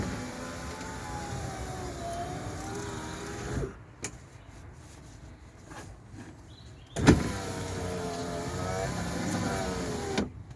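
A Rover 45's freshly cleaned and lubricated electric window motor whirs steadily with a rising and falling pitch, pauses, clunks, then runs again for a second pass, close up.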